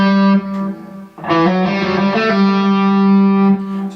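Distorted electric guitar plays a pop-rock harmony lick with hammer-ons, a held sustained note, then a burst of quick picked and hammered notes before settling back to a ringing tone, loud and close with no talking.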